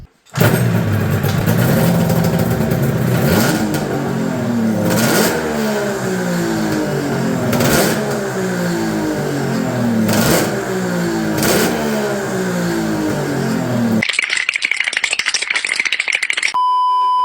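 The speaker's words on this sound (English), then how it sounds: "Let's start this thing and give it a couple revs." A lawn tractor swapped to three two-stroke engines starts up and revs loudly with repeated throttle blips, rattling and buzzing close by, then cuts to a different high-pitched whine near the end.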